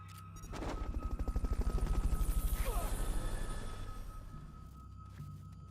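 A helicopter in the video game Metal Gear Solid Peace Walker gives off fast, rhythmic rotor thumping that swells loud and then fades, with a steady mechanical whine underneath.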